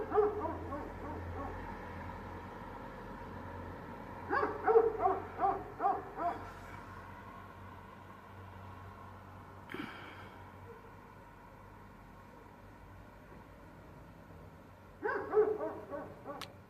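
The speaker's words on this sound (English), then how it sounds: "This dog's been barking since 4 a.m." A dog barks in Spain in a few clustered bursts of yips and barks, somewhat distant, with quiet stretches between.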